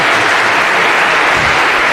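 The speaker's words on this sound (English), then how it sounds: "I think we give you a round of applause for having done that very well" Loud, dense applause from a lecture hall audience at a CS50 computer science lecture, a continuous roar of clapping with no voices.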